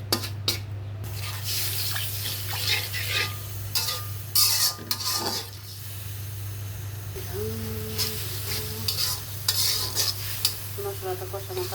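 Spice masala sizzles while being sautéed and stirred in a pan before rohu fish, ash gourd and potato go in, with steady frying hiss, repeated spatula scrapes and clinks, and a low hum underneath.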